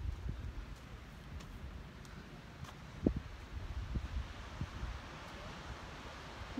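Wind blows across a hilltop on the coast at Rancho Palos Verdes, California, a steady low rumble of buffeting gusts with a few soft thumps against the microphone, no talking.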